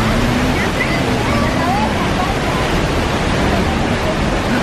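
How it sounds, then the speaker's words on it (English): A steady, loud rush of falling water fills the air near a waterfall in Costa Rica, with people talking over the constant roar. "the waterfall is around the corner there."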